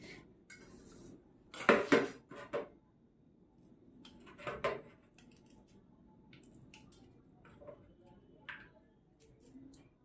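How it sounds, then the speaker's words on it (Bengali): A knife finely chops chillies in a few quick bursts of sharp clicking taps, then sparser, fainter cuts follow. "লঙ্কাগুলোকে আমি কুচি কুচি করে এর মধ্যে দিয়ে দেব।"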